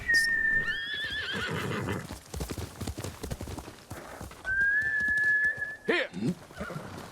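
A horse in Ghost of Tsushima trots with quick, clear clip-clop hoofbeats and lets out two loud, high neighs, one near the start and one midway, close up and mostly alone.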